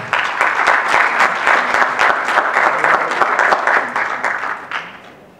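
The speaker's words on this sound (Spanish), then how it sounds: "Un aplauso para ella, por favor." A seated audience at a university health-system conference claps loudly and close by, dense steady applause for about four seconds that thins and fades at the end.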